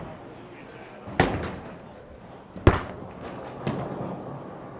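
900 Global Eternity bowling ball striking pins in an alley, with sharp crashing impacts and scattered clatter among background alley noise and murmured voices.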